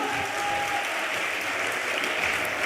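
Audience applause welcomes the guests arriving at an all-India mushaira poetry gathering in Etah, a fairly quiet but continuous patter of many hands clapping with no break.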